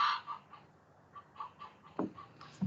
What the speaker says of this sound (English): Something is bothering my chickens.